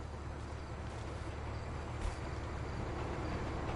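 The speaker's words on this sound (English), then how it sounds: "oh my god, the train." A train rolling past in a PS4 video game, a steady, dense rumble that holds at an even level throughout with no voices over it.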